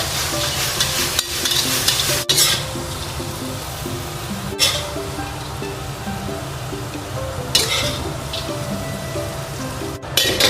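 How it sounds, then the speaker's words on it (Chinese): King oyster mushrooms are stir-fried in a hot wok, with a continuous oily sizzle under repeated scraping strokes of a spatula and a few sharp metallic knocks against the pan, close and fairly loud. "来炒一炒，下入这个杏鲍菇，翻炒2下"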